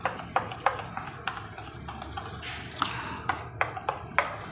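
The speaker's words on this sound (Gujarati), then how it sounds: "હવે આ બધું મિક્સ કરી દેવાનું" A spoon stirs raita in a bowl after a pinch of red chili powder and coriander go in, giving a series of light clinks and scrapes against the dish at an irregular pace, close and fairly quiet.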